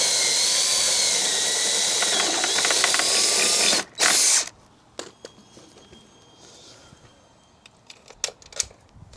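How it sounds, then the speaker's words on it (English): A 5mm bit drilling into the body of a VW Crafter van to mount a Fiamma F45S awning: a loud, steady whine runs for about four seconds, then a short burst, followed by quieter clicks and taps. "5mm drill."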